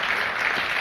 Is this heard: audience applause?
yes